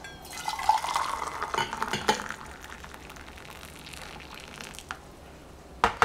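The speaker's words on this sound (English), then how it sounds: "So fill it with hot water." Hot water poured into a kid's lunch container, a soft splashing trickle with light clinks of the container, strongest in the first couple of seconds and then settling into quieter handling sounds.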